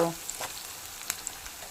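Onion pieces fry in a pan for an egg curry, a quiet, steady sizzle broken by a few light scrapes and clicks as they are stirred.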